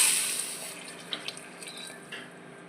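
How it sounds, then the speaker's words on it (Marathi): Hot water is poured into a cooking pot during meal preparation, a soft splashing trickle up close with a few small drips, fading as the stream thins. "आता या स्टेजवर आपण टाकूया गरम पाणी."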